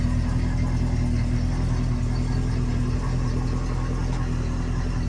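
A 1973 Mercury Cougar XR7 convertible idling steadily, a close, even low rumble with a strong hum and no revving across the whole stretch.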